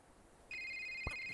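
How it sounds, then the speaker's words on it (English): A cell phone rings in the video game A Short Hike on a mountain peak, a bright electronic tone starting suddenly and holding steady, with a soft thump partway through over quiet background ambience. "Oh, there's our phone."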